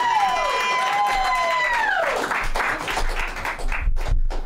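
The crowd at an open mic at the Loisaida Center claps and cheers, and the noise builds after a whooping shout and stays dense until the end.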